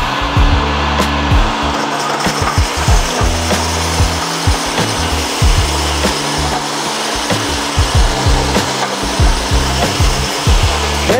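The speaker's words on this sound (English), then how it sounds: "Turn the vacuum on first." A vacuum roars steadily and loudly while work goes on across the floor of an abandoned storage unit being turned into a shop, with repeated scraping and grinding pulses layered over the drone.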